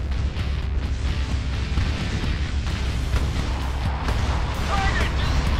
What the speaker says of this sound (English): Another vertex strike incoming.